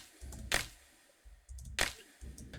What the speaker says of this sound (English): And then a clap layer.